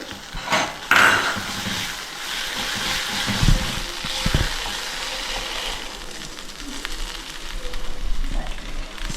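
Gongura leaves frying in a pan, a steady broadband sizzle throughout with a few clattering knocks of a utensil near the start and middle, no talking.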